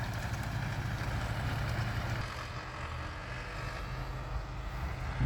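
A two-wheel-drive Zetor tractor pulls a hay rake, double raking a windrow, its engine a steady, moderately loud drone that eases slightly partway through, with no talk.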